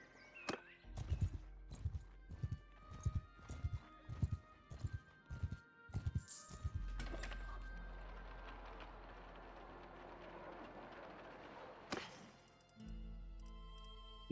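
Horse hooves clip-clop in a steady, close rhythm in the medieval game Mount and Blade II Bannerlord, then give way to a sustained, rumbling in-game ambience with a sharp transient near the end.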